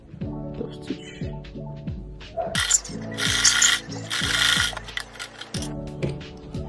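A sewing machine topstitches a pocket on straight-leg sweatpants, its motor whirring in repeated short runs with rising and falling tones, broken by a few louder, harsher stretches of stitching; no talk.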